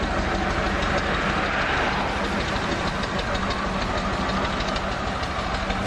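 A powerful classic British truck engine runs close by, a steady, loud, continuous rumble with a knocking, locomotive-like chug and no speech.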